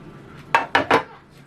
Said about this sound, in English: I'm going to pause it and then I'm going to remove the lid.